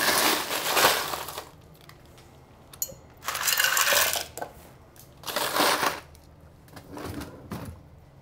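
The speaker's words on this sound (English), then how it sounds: "And we will add ice." Ice cubes dropped and rattling into a glass for a rye whiskey cocktail, coming in several loud crunching bursts separated by brief quiet gaps, with no talking.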